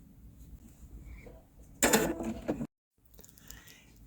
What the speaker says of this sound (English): I'm going to put this here and just start sewing